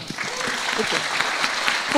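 Audience applause at an Indonesian talk event on privilege, a dense wash of clapping filling the whole stretch at steady loudness, with faint voices mixed in.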